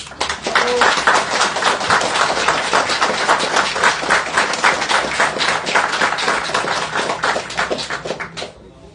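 Applause from an audience, loud, dense clapping that fills the whole stretch and then quickly dies away at the end.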